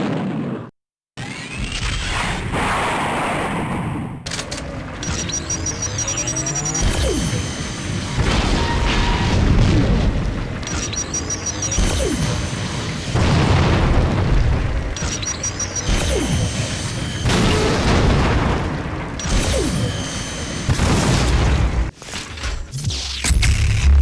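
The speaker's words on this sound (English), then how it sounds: "4 different power shots complete with individual explosion sound effects" Four BFG-9000 power shots from a video game fire one after another, each a heavy booming blast with whooshing energy sweeps, bright synthetic tones and crashing impacts, loud and dense with brief gaps between shots.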